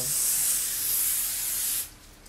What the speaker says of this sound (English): I am still gonna spray out because y'all can't see